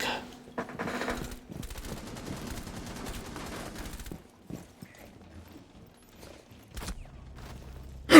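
AK rifle fire in a video game, rattling out in a sustained automatic burst at moderate level, then giving way to scattered quieter shots and clatter.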